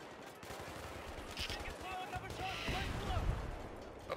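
Rapid bursts of gunfire in the video game Battlefield 3 singleplayer, crackling through a busy battle mix with someone talking in German over the top at moderate level.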